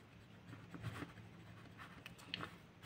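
Equations are handwritten on paper or a board in a quiet room, a faint, soft scratching with short irregular strokes and small taps, close and low in level with no talking.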